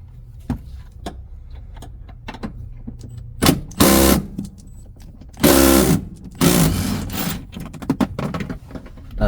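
Bolts are taken out of a 2022 Toyota Tundra seat with a power tool, which gives several loud whirring bursts among scattered clicks and handling knocks in a quiet cabin.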